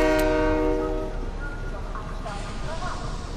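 A train horn in the video game Fortnite blares for about a second, then fades into a low rumbling of rail movement with faint voices underneath.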